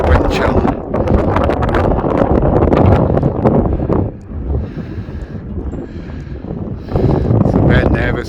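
Strong wind buffets the microphone on the exposed, sunny summit of Ben Lawers in Perthshire, Scotland, a loud continuous rushing roar that dips briefly and then returns, with talk over parts of it.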